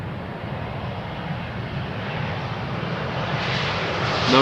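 An Embraer E2 airliner lands on runway 18R at Amsterdam Schiphol without reverse thrust, a steady broadband engine roar that builds gradually toward the end.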